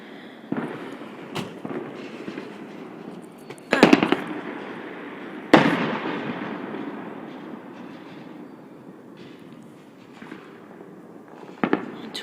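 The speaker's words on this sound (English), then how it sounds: "Except for fireworks." Fireworks explode outside at night during a 4th of July car ride: several sharp, loud bangs and crackles, some distant, over the steady rumble of the moving car.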